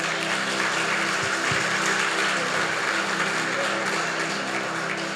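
A congregation applauding at a church conference session, sustained clapping from a large crowd filling the hall, steady and fairly loud for several seconds.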